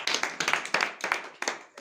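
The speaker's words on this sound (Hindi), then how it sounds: "एक बार जोरदार ताली हो जाए।" Audience applause at a large home meeting, a burst of many hands clapping together in quick, uneven rhythm at moderate loudness, lasting under two seconds.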